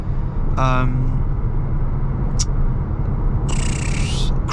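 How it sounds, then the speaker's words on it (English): Steady broadband road noise inside a 2015 Toyota Auris Hybrid Touring Sports cruising at 60 mph on a dual carriageway, a constant low rumble with brief speech and small cabin noises over it. "There's a bit of road noise"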